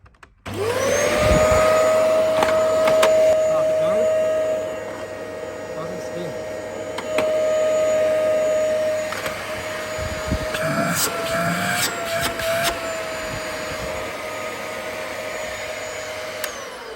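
A Dyson DC33 upright vacuum cleaner, with a brush bar that has stopped spinning, runs with a loud steady motor whine and airflow roar. The pitch dips and recovers a few times amid intermittent clicks and handling knocks.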